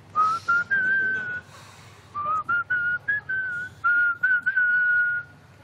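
A person whistles a melody from a song in short phrases separated by brief pauses, clear and close, with no talking.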